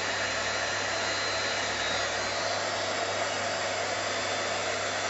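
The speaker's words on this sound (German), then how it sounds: "Wir föhnen das jetzt mit einem Embossingföhn kurz auf." An embossing heat gun blows steadily and loudly at close range while drying glitter embossing powder on a craft piece, a constant hot-air whir throughout. A voice speaks briefly over the noise.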